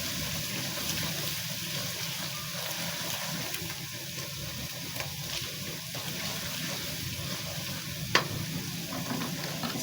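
Chillies sizzling steadily in hot oil in a pan while being stirred for a spicy potato and moongra vegetable dish, a soft continuous crackle with light scraping and one brief clink near the end.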